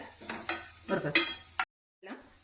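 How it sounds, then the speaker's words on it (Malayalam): Cooked sweet potato pieces being stirred for a salad, with a few short scraping, shuffling strokes close by, then a brief silence and one last soft stir. "ഇതൊന്ന് ഇളക്കി എല്ലാ വശത്തേക്കും ഒന്ന് ചേർക്കുകയാണ്"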